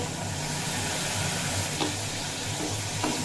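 Spice paste thinned with a little water sizzles in a hot pan for a papaya and potato curry, a steady broadband frying hiss with a faint low hum and one or two soft clicks, no voices.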